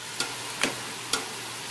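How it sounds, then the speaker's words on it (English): Rice stirred into a pan of lentils, with three soft scraping strokes over a steady low sizzle from the pan. "And then we're going to add the rice."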